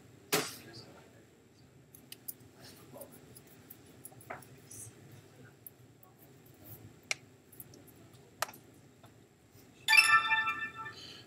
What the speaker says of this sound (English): it will end with a satisfying little ringing bell